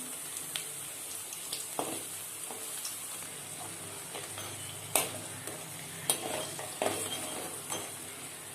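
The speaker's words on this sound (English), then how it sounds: "Second time, leave the potatoes in the hot oil and fry the same way." Potato wedges fry in hot oil during a second frying pass, giving a steady close-up sizzle broken by light clinks and stirring scrapes from a utensil against the pan.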